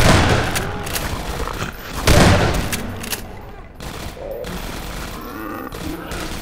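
Repeated sharp gunshots and booming blasts in Half-Life 2: Episode One ring out in irregular bursts, one especially loud hit standing out among the rattling fire.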